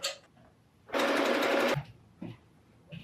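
A sewing machine stitches corduroy for a Furby Halloween costume in one short, loud burst of rapid whirring, with quiet handling sounds before and after.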